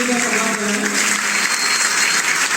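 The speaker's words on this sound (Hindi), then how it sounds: "एक बार जोरदार तालियां बड़ी करने की कोशिश करें।" A crowd at a Hindi poetry recital breaks into loud, sustained applause as a speaking voice fades out at the start, the clapping filling the room steadily to the end.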